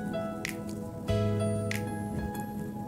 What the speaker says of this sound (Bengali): এবার এই ব্যাটারটাকে আমি একটা গামলির মধ্যে ঢেলে নিচ্ছি।